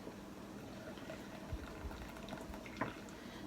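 A steam juicer boils water to steam cherries, giving a steady, quiet bubbling and hiss throughout with a couple of soft knocks. No voices are heard.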